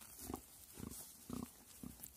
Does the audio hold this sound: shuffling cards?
no